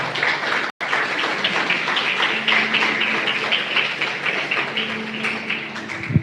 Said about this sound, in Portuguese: você aplauda o nome do Senhor Jesus com muita alegria